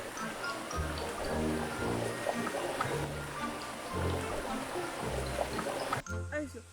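A small mountain stream flows steadily with a continuous rushing, trickling wash, fairly close, while talk and background music run over it throughout.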